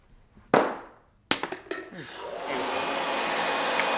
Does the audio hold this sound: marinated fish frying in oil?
no